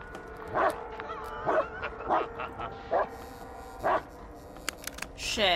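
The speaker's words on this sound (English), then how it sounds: "that's our dog actually barking" A household dog barks and yips in sharp, separated bursts, about five or six over several seconds, heard indoors over a steady low hum while gameplay of the Blair Witch horror game runs.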